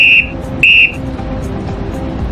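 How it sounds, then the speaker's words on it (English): A traffic police officer's whistle gives two shrill, piercing blasts, a brief first one and then a longer second, close and loud over a steady low hum of traffic. "Long sound followed by short sound"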